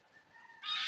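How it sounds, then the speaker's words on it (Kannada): A large bird gives a loud, harsh honking call, rising sharply in the second half after a softer opening, close by with no voices. "ಕಿರ್ಚಿತ ಉಂಟು ಕ್ಯಾಂಕ್ ಅಂತ ಹೇಳಿ ಕಿರ್ಚಿತ ಉಂಟಲ್ಲ ಅದೇ ಕ್ಯಾಂಕ್ ಕ್ಯಾಂಕ್ ಅದು ದೊಡ್ಡ ಹಕ್ಕಿ"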